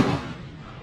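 One loud handgun shot fired with both hands bursts at the start and then rolls off in a decaying boom and echo outdoors.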